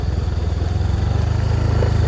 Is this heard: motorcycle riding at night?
yes